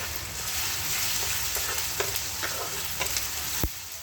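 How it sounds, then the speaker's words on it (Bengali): Garlic and ginger stir-fry in a pan for restaurant-style street fried rice, a steady sizzle with light spatula scrapes and one sharper clink near the end, no voices. "এটাকে 1 থেকে 2 মিনিট মতো আমরা ভাজবো"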